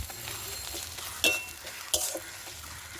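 Onions fried until reddish, then ginger-garlic paste added to the pan for a boal fish curry, a soft sizzle under a spoon stirring and scraping, with a few sharp clinks against the pan.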